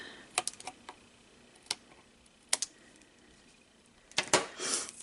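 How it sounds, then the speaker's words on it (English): Small snips trim die-cut paper pieces for a handmade card, making a few quiet, crisp clicks spaced apart, with a quicker cluster of cuts near the end in a hushed room. "I'm just going to trim those off with my snips"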